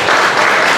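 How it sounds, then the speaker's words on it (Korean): Loud, dense clapping from a church camp audience after an improvised instrumental performance, a brief close burst of applause with no talk. "박수로 한번"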